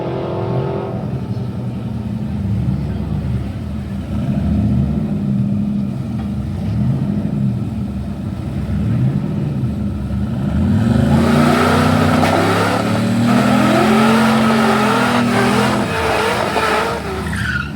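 Chevrolet race car on a drag strip pass at Sick Smokies, its engine loud and close with rising revs and tire-spin screech, building to a louder, harder-pulling roar in the final seconds.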